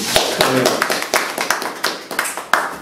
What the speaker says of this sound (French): Je demande d'applaudir quand même.